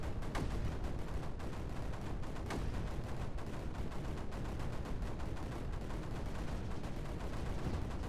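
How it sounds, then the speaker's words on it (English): Mortar fire in the strategy game Creeper World 4: a dense, continuous barrage of rapid, crackling blasts that stays loud and unbroken throughout, with no talk. "Let's try mortars."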